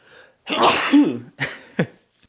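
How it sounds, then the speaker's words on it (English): A single close, loud sneeze with a sharp breathy burst and vocal catch, followed by a short sniff-like exhale. "I gotta sneeze."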